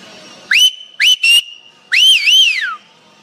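A man whistles a short tune up close: one rising note, two quick chirps, then a longer warbling phrase that slides downward, loud and clear over a quiet room.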